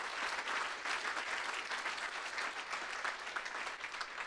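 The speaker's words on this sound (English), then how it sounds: "Please, a round of applause for those folks that are doing great research at Harvard for the veterans." A hall audience at a veterans' tribute gathering applauds Harvard researchers working for veterans, producing a dense, even patter of many hands that carries steadily for a few seconds at moderate volume without speech.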